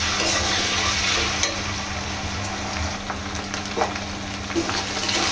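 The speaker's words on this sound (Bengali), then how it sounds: "দেখুন আমাদের মশলাটা অনেকটা ভাজা হয়ে আসছে" Whole spices with cumin and green chillies frying in hot oil, giving a steady loud sizzle with occasional stirring clicks, close and continuous throughout.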